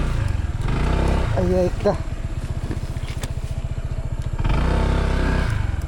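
A motorcycle strains up a slippery rocky road, its engine revving and labouring in a rapid, loud chugging pulse that rises and falls with clattering stones, while someone speaks over it.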